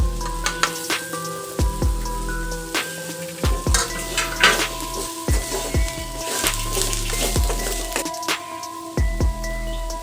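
Boiled elephant foot yam stirred and fried in a pan for tamarind curry, with repeated close metallic scrapes and clinks of a spoon against the pan over a light sizzling background.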